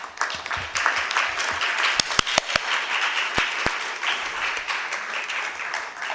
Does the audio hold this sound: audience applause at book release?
yes